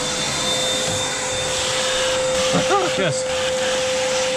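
A vacuum cleaner drones steadily as it sucks rust chunks and debris out of the engine of a 1982 Pontiac Firebird that sat in a field since 1993, with a high whine throughout and a voice speaking briefly over it.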